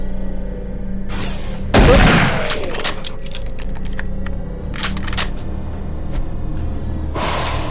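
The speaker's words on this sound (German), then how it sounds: "Das sind Granaten." Grenades exploding in Doom 3: one loud, close burst rises sharply out of a steady mechanical hum, followed by scattered crackling debris and a later burst near the end.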